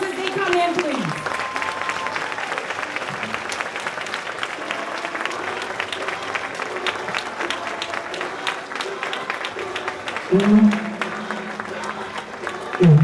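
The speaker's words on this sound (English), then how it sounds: "Give them a round of applause as they come in, please." Sustained applause from an audience at a new teacher orientation greets the arriving school board members and superintendent, steady and fairly loud throughout, with a voice talking over it and a brief swell near the end.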